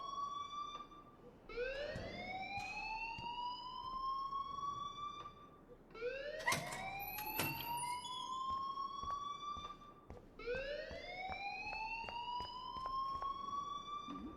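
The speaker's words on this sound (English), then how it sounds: "please turn off that alarm since that's your job" A wailing alarm in Life is Strange rings in three rising, siren-like sweeps, loud and steady across the stretch with no voices.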